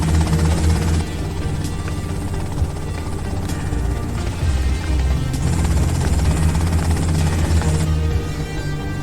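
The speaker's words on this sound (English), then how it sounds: "that's them in the chopper" Helicopter in Grand Theft Auto Vice City, a loud steady rotor drone with a low rumble filling the whole stretch.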